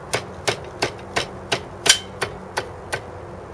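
Repeated hammer blows strike a seized engine on a 1975 Suzuki RL 250 as someone tries to free it. About ten sharp metallic knocks land at a steady, brisk rhythm, close and fairly loud, with one harder ringing hit midway and no talking.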